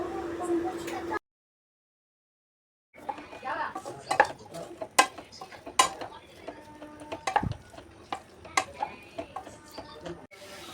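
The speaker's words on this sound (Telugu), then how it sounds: "ఇప్పుడు సోయా అండ్ క్యాప్సికమ్ గ్రేవీని వేసుకొని బాగా పచ్చివాసన పోయే వరకు కలుపుకోవాలి" A spoon clinks and scrapes against a pan while soya and capsicum gravy is stirred, giving irregular sharp taps after a short silent gap.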